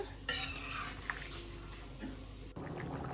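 Potato and pointed gourd curry stirred in a pot with cumin and garam masala paste: a sharp spoon clink against the metal, then soft scraping and faint sizzling nearby.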